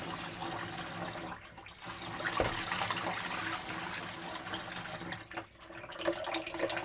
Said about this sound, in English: I use some hot water from the tap as well.